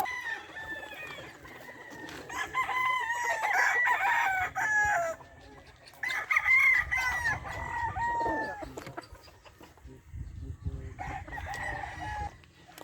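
Roosters crow repeatedly nearby, several long calls separated by pauses, with clucking and farmyard noise in between.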